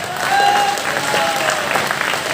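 An audience applauds during a Hindi poetry recitation, a dense, loud, steady wash of many hands clapping that fills the whole stretch, with a faint thin tone running underneath.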